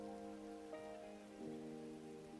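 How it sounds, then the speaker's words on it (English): Rain ambience in the game Spirit City, a soft steady patter of rainfall spread across the clip beneath sustained musical tones, quiet and continuous. "because it will actually make it rain"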